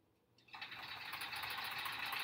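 A sewing machine stitches quilt pieces together for a sampler quilt block, starting after a brief quiet moment and then running steadily with a close, continuous whirring hum to the end.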